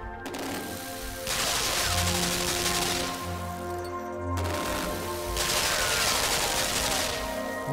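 Shooting in the dark puzzle platformer Limbo: two sustained, roaring bursts of rapid machine-like fire, each lasting a few seconds over a constant low hum, with a short lull between them and no speech.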